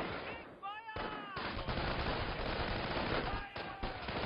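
Camouflaged riflemen gunning down snipers in a video game match, a near-continuous clatter of rapid rifle fire, loud and close, with a voice talking over the shooting.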